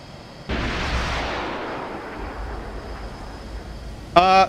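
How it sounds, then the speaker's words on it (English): A deep underwater explosion in the submarine game Cold Waters: a sudden heavy rumble bursts in and slowly fades into a long low wash, ending with a brief sharp tonal sound. "We just heard an explosion underwater."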